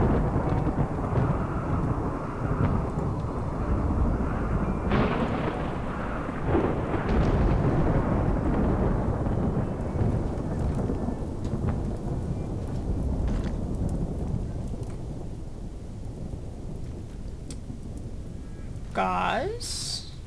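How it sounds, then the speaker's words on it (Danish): Thunderstorm with rain in the video game RimWorld, a steady loud wash of rain with rolling rumbles of thunder throughout, while a person talks over much of it. "Endnu mere stormvejr."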